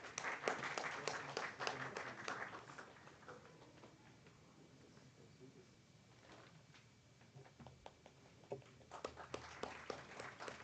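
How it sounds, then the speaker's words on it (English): Audience at a college memorial debate final clapping in a round of applause, faint and distant, fading midway and picking up again toward the end. "Please give a round of applause."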